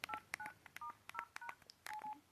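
An LG 220C or LG VX 5500 flip phone plays keypad dialing tones as numbers are pressed. About a dozen short, quiet beeps come in an uneven rhythm, with soft handling noise and no talking.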